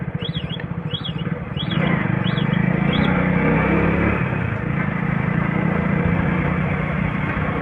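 A motorcycle engine hums while riding on a road, rising to a louder, steady drone after a few seconds. Faint repeated beeping, like an indicator, can be heard early on.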